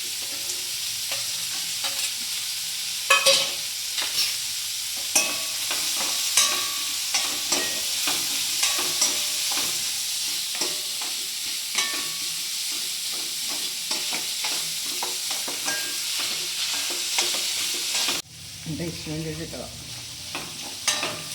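Green chillies sizzle and fry in a pan while a spoon stirs them, with steady broadband sizzling, repeated scraping clicks throughout, and a brief clunk near the end as the sizzle drops briefly.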